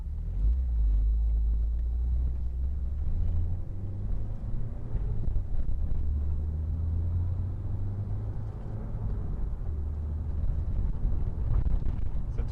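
A freshly imported Nissan S14 Silvia drift car on a test drive, heard from inside as a deep, steady engine drone and road rumble with some wind noise, continuous throughout with no speech.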